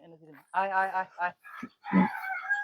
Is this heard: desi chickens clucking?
yes